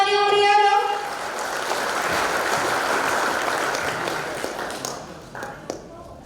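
An audience at a campus orientation event applauds in a sustained, dense burst of clapping that holds steady for several seconds, then thins out and fades to a few scattered claps near the end.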